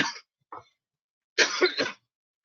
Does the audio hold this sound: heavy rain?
no